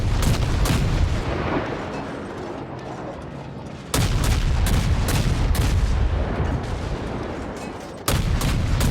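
Warship guns fire in World of Warships: heavy booming salvos, each starting abruptly and rolling into a long, loud rumbling decay, repeated about every four seconds.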